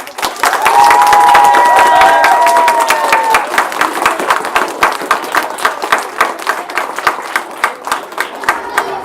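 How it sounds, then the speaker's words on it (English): Boys and girls in an audience applaud and cheer for guests, loud and dense with whoops and shouts early, then settling into rhythmic unison clapping that continues to the end. "if you could please give all of our guests today a huge round of applause"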